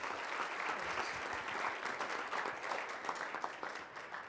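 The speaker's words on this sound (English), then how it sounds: "Round of applause," Audience at a high school college signing ceremony gives a steady round of applause, full and fairly close, gradually thinning toward the end with a few voices underneath.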